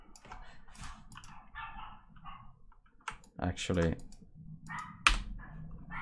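A pet dog barks a few scattered times in the background of a live texturing stream, mixed with keyboard and mouse clicking while someone speaks briefly.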